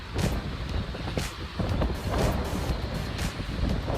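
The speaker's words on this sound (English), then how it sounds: "So, goodness, this wind." Strong wind blowing near water by a highway, a steady loud roar with gusty buffeting against the microphone and a faint wash like surf underneath, no talk.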